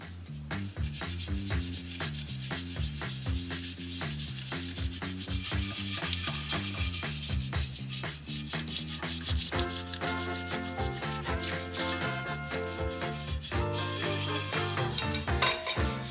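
A brush scrubs a pan handle coated in oven cleaner, a steady rough rubbing that continues for the whole stretch under soft background music.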